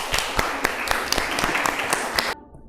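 Classmates clap for a student group in a vocational school classroom, a short burst of scattered, uneven claps of moderate loudness that cuts off abruptly near the end.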